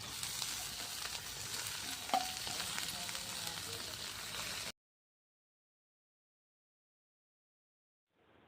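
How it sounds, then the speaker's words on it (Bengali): Leafy greens fry in a pan of hot oil with green chillies, onion and garlic, a steady broadband sizzle for about five seconds. It then cuts to silence, and a faint noise returns near the end. "শাকগুলো দিয়ে দেবো।"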